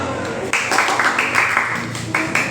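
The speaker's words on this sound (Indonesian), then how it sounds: "Beri tepuk tangan kepada kelompok 1." Continuous clapping from a group of junior high school students fills a classroom, fairly loud and steady, with some murmuring voices underneath.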